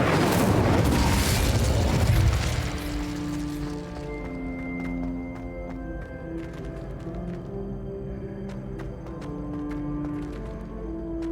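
In Hogwarts Legacy, the Incendio fire spell erupts as a loud, close, roaring burst for about two seconds, then fades away under soft sustained musical tones.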